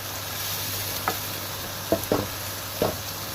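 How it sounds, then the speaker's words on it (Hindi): A pan of ground red chilli, dried coriander, crushed red chilli, turmeric and cumin being stirred, with a few soft scraping strokes rising over a steady low sizzle. "पिसी लाल मिर्च, पिसा सूखा धनिया, कुटी लाल मिर्च, हल्दी, ज़ीरा, और इसको घुमाऊंगी"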